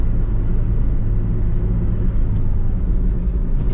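A 2019 Toyota Calya with a manual gearbox cruises in third gear on a main road in Madiun, heard from inside the cabin as a steady, low road-and-engine rumble with no pauses.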